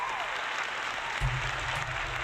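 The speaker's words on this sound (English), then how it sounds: "Give yourself a round of applause for sticking with it." Steady applause plays in a retro gaming live stream, a continuous, even wash of clapping at moderate level with a brief low thump partway through.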